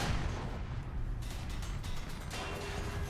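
Tank cannon fire in War Thunder, a Chieftain Mk.3 battle: dense continuous battlefield rumble with muffled booms and bursts layered together, fairly loud and steady throughout.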